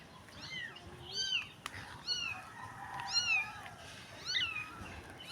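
A stray cat on a dirty street gives a series of four or five high, plaintive meows at irregular intervals, moderately near over a soft outdoor background.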